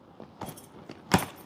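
A set of keys jangles briefly close by, with a few light metallic clinks followed by one louder rattle near the end.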